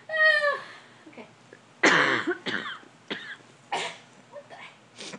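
A few sharp coughs burst out in a short irregular series, mixed with throat clearing and a brief vocal sound at the start, fairly close.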